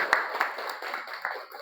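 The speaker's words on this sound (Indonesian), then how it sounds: "Oke, tepuk tangan." A classroom of students claps together in a brief, uneven burst of hand claps lasting under two seconds, with voices mixed in.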